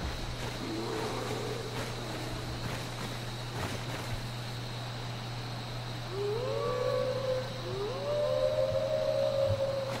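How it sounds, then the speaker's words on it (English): Wolves in Skyrim howl in long rising and sliding cries from a distance in the second half, over a steady hum and low rumble of game ambience. "Oh man, not wolves too."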